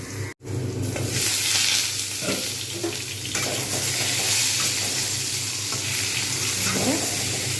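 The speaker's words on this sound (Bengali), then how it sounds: "ভাজাও হয়ে যাবে এখানে কিন্তু জাস্ট দুটো মিনিট অপেক্ষা করবো আবার নাড়িয়ে দেবো" Chopped pointed gourd and vegetables frying in a pan for lentil khichuri, a steady close hiss and sizzle with occasional stirring scrapes, after a brief dropout at the start.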